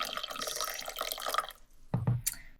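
Hot water poured into a heat-resistant cup, a splashing, bubbling pour that stops, then a short second burst of liquid with a brief high clink.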